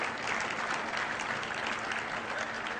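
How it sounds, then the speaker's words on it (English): Steady, sustained applause from a conference audience at a business talk, an even wash of many hands clapping heard from a distance without a break. "that's getting a big applause in case you can't hear it over there"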